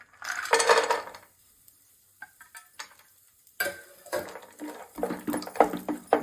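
Dry fruits roasting in melted ghee in a pan for payasa, with a light sizzle broken up by bursts of a spoon stirring and scraping against the pan and brief quiet gaps in between.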